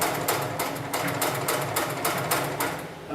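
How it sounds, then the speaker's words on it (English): An industrial sewing machine stitches heavy sling material, a fast rhythmic thumping chatter of about eight quick bursts, close and steady. "set my foot back down and continue sewing"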